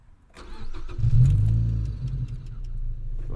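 Mazda Miata NC track car engine cranking and catching, then settling into a deep, rumbling idle, close and alone with no talking.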